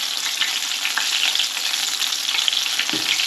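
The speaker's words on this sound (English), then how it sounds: "It does sound like it's angry, but to be honest, it's only on, it is on the highest ring" Steady, loud sizzling and crackling of a chicken burger frying in a hot pan, continuous throughout with small pops and no voices.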